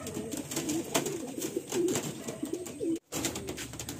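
Madrasi and Andhra breed pigeons, including black ones, coo in low, rolling, overlapping calls up close, with a brief silent break near the end and no speech.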